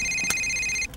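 A telephone rings with a continuous high electronic tone in a room, loud and close, then cuts off after about a second.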